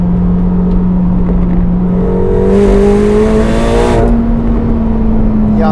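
A 2025 McLaren 750S sports car accelerates hard down a winding road, heard from inside as a loud, steady engine drone whose pitch rises smoothly, with a brief whooshing surge midway.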